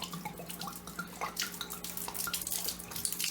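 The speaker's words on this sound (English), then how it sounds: "I'm just going to dump some of this water out." Water dumped out of a wine bottle splashes and trickles steadily for a few seconds, close by and fairly quiet, with a bubbly, uneven pattering and no voices.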